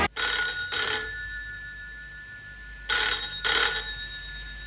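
A telephone bell rings in two double bursts, loud and close, with a quiet pause between the pairs and no talking.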